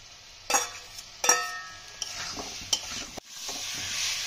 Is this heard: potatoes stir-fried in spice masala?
yes